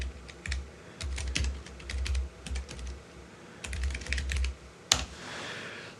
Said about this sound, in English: let me just type...